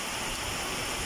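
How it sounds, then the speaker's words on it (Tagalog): Heavy rain pours down outdoors as a brief, dense, steady hiss of water on surfaces, loud and continuous with no other sound standing out. "Yan at napakalakas ng ulan mga kapits"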